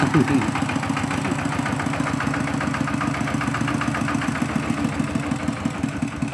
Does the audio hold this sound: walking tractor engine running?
yes